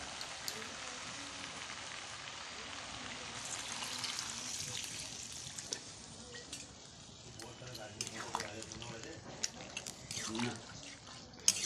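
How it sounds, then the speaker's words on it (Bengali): Water splashes into a pot of cooking goat meat, a close, busy rushing and bubbling wash over the sizzle, with sharper clinks and stirring sounds near the end. "মাংস থেকে তেল ছেড়ে এলেই জল দিয়ে দেবো"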